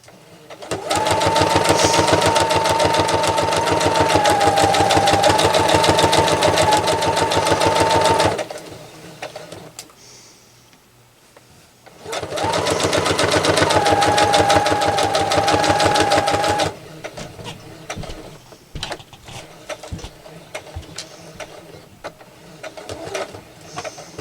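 A sewing machine stitches a tablet bag in two long, loud, steady whirring runs separated by a short pause, then ends in a few brief stop-start bursts.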